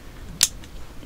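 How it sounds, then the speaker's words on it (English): An airsoft pistol's small fire-selector switch is flicked once, a single sharp close click with nothing else around it. "I just flick this switch"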